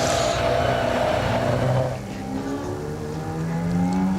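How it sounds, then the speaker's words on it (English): A Mini race car at a hillclimb, its engine droning loudly and nearby and then dropping in pitch before climbing again as it accelerates out of a corner, a continuous strong motor note. "Steve Pauly round that last corner in the Mini"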